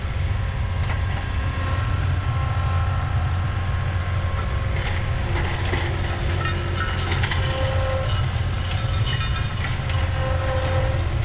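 A John Deere 2038R tractor pulls a Land Pride SP3072 soil pulverizer, making a steady, loud engine drone with a constant rumbling and rattling of the implement, close and without a break.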